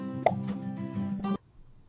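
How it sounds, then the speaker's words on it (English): Crushed garlic, fresh ginger slices and lemon slices dropped into a thermos give a single soft plop followed by a brief hollow ring that cuts off, leaving near silence. "Add them to a thermos together with fresh lemon slices."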